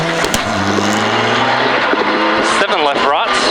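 Rally car racing flat out along the 14.7 km Cottage Five Ways stage in Rally NSW, engine loud and close with gear changes and rising pitch sweeps, under a voice talking.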